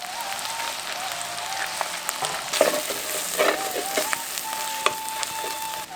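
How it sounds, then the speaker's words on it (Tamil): Ground masala paste and turmeric are stirred in a hot pan for mutton kofta curry, with a steady sizzle of frying and occasional sharp scrapes and knocks from the spoon against the pan, close up and with no talking. "1/2 தேக்கரண்டி மஞ்சத்தூள், அரைச்சு வச்சிருந்த மசாலா 2யும் சேர்த்து இப்ப நல்லா கிண்டி விட்டுருவோம்"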